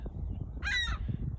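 A single harsh, nasal call from an agitated seagull near its nest in Thunder Bay, Ontario, rises briefly over a low rumble of outdoor background noise.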